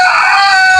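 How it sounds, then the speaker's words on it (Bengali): An Egyptian Fayoumi rooster let out to roam outdoors crows loudly and close by, one sustained bright call that fills the whole moment with no talking over it. "আমার কিছু ফার্মি মোরগ আছে, মিশরি অরিজিনাল ফার্মি মোরগ"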